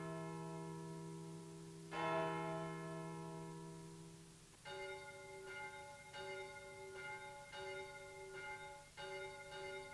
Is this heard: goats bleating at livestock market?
no